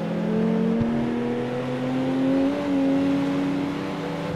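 A race car engine in the street-racing video game CarX Street revs with a smooth, rising whine that swells and settles slightly. It sounds close and loud, with no voices.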